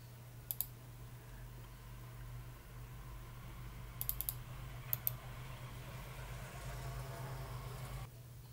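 A few sharp key clicks on a computer keyboard while a folder name is typed, in quick bursts of two or three taps separated by pauses, set against a steady low hum.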